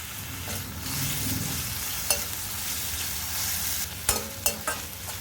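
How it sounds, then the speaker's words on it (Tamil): Onion and grated ginger sautéing in a pan, a dense close sizzle with stirring scrapes and a few sharp utensil clinks toward the end, with no talking. "இஞ்சி துருவி வச்சுருக்கிறதையும் சேர்த்துக்கிறேங்க இதையும் சேர்த்து வதக்கிக்கலாம்"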